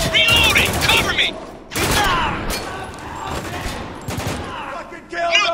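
Bursts of gunfire ring out in a Spec Ops: The Line firefight, loud volleys at the start, middle and end with a sustained rattle between, while soldiers shout under the shooting.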